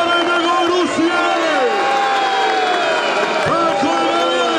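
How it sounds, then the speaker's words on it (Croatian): A crowd of fans cheers and shouts at a bull fighting event in Velagići, Ključ, Bosnia, a loud, continuous roar for the whole stretch, with a strong voice calling out over it. "Da čujem navijače Brisana, šampiona!"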